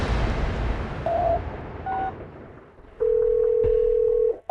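A telephone call tone sounds as a few short beeps followed by a long steady dial tone over a rumbling dramatic background, loud and close with no speech.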